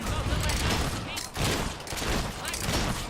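Rapid, dense bursts of gunfire in the Fable 3 video game, with a volley of bullets blasting continuously for about three seconds and a brief dip in the middle.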